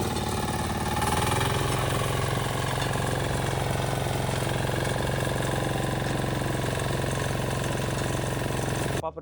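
A 13HP all-in-one power weeder engine runs loud and close outdoors near a godown, with a steady unbroken motor drone and rattle until it cuts off at the end.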